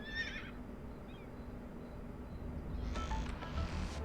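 A horse neighs in a radio ad in the Cities: Skylines video game, a quick whinny at the start followed by faint background sound and a brief louder burst near the end.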